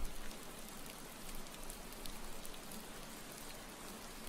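Steady rain ambience played on a livestream, a dense continuous patter of raindrops on a surface with an even, moderately quiet level throughout and no talking.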